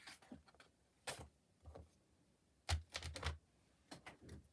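A paper trimmer slicing through cardstock, several short sharp crisp cuts and slides heard up close in a quiet room, in clustered bursts.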